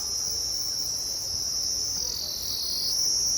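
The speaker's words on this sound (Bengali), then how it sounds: "ঝিঝি পোকার কেমন আওয়াজ হচ্ছে দেখো" Crickets chirp in a forest near Kanchenjunga Falls in Pelling, a steady, loud, high-pitched trill that never lets up, with no other sounds.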